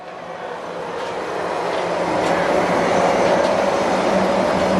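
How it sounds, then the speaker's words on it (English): Disneyland monorail rolling past outdoors, a steady broadband rumble that swells over the first two seconds and then holds loud and close, with no talk over it. "the monorail is coming around the corner"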